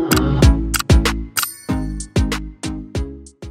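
A bright notification bell dings eight times in a steady rhythm, each strike ringing clearly and fading before the next, loud and alone.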